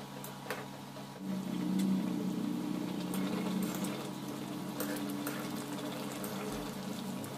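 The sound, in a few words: singi fish curry with new potatoes cooking after water added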